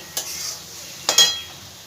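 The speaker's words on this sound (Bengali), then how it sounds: "ভালো করে একটু আলুর সাথে কষিয়ে নেব মশলাটা।" Spice paste being sautéed with potatoes in a pan for masoor dal dhokar dalna, a soft sizzle broken by two sharp scraping stirs, close and with no talk.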